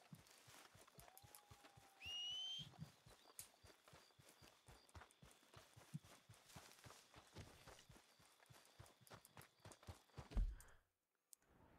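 Horse hooves in the video game Red Dead Redemption 2 clop along in a brisk, regular rhythm of close, distinct thuds, with a few short tonal effects layered on top; the run halts abruptly near the end.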